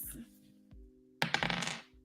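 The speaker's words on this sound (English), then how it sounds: "And then let's roll your dice." Dice rolled during a live tarot reading, a few light clicks early on, then a burst of bright clattering and tumbling that settles quickly, close and fairly faint.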